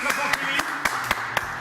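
Short bursts of applause at a televised beauty-pageant news segment, sharp clapping accents recurring every quarter second or so, while a presenter keeps talking over them.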